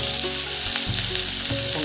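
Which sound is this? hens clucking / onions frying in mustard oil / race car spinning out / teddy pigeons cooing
onions frying in mustard oil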